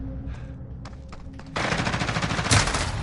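Automatic weapon fire in the video game Modern Warfare, a few scattered shots at first, then a sustained loud burst of rapid machine-gun fire with one heavier blast near the end, no talking.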